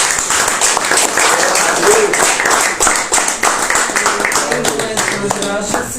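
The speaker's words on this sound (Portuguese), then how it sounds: "Salve de palmas." A church congregation claps during a sermon, a lively, fairly loud round of hands that builds and then thins toward the end, with voices faintly mixed in.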